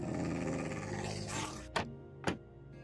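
Dogs in a block-building video game growl in a low rumbling wash, followed by two sharp close yelps or hits, with no one talking.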